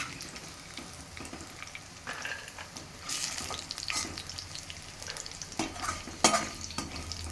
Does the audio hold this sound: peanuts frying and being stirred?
yes